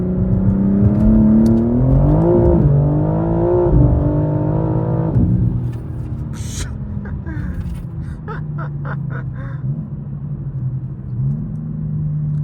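A BMW M4 G82 with traction control off revs hard while its wheels spin, the engine note rising and wavering loudly for several seconds before easing back to a lower rumble, with faint bird calls and scattered background noise afterward.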